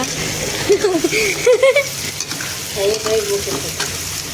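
Banana flower fry being stirred in a pan, a close sizzle with scraping strokes of a spatula, while people talk over the cooking.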